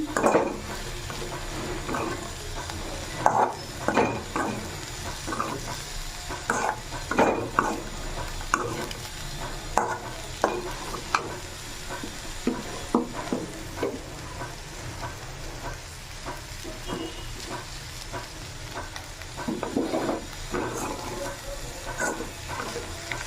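A spoon scrapes and stirs steadily in a frying pan of chayote fry with coconut powder over a low flame, with repeated soft clinks and a faint sizzle underneath, close and continuous.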